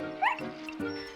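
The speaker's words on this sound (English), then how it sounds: "Snuffy ran around it, around and around, wagging her tail and barking eagerly" A cartoon dog in an animated children's show barking eagerly, two quick close yips heard in a brief burst.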